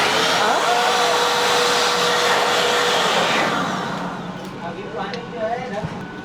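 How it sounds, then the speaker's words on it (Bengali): A hand dryer in the washroom of a Vande Bharat sleeper train blows with a loud, steady whoosh for about four seconds, then winds down. A voice talks over the dryer at the start. "আর এটা হচ্ছে হ্যান্ড ড্রায়ার।"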